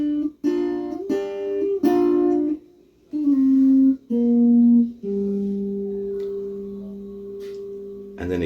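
Rock-and-roll guitar riff, picked close and loud alone: a run of sharp plucked notes and double-stops that ends on a long ringing bend, then a last stab of the strings.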